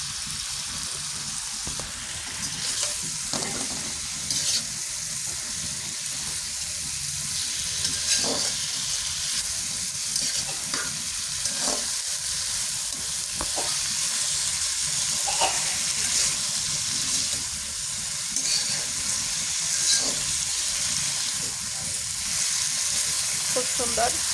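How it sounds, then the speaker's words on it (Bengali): Elephant apple pickle frying with spices and chili powder in a pan gives a steady, close sizzle for the whole stretch, with occasional stirring scrapes and faint background sounds. "সুন্দর করে ভেজে নেওয়া হচ্ছে।"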